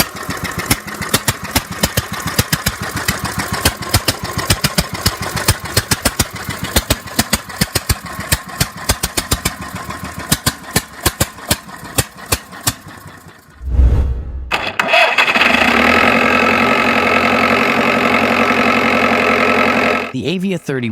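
A Deutz industrial diesel tractor engine fitted into a heavy-duty motorcycle frame knocks at a fast, steady idle, close and loud, then briefly falls silent before surging into a louder, denser roar that cuts off near the end.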